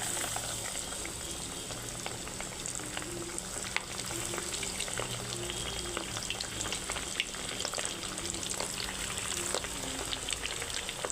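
Fish for masala fish fry sizzling in hot oil in a wok over low gas, a continuous close bubbling crackle with occasional pops and faint stirring, no one speaking.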